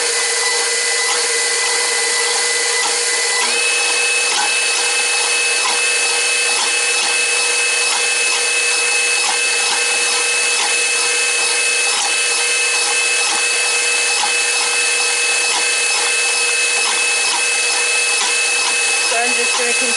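A KitchenAid stand mixer with its whisk attachment beats pear and peach cobbler batter at a higher speed, giving a steady, loud, continuous whirring hum with a rhythmic rubbing texture that runs unbroken and alone throughout.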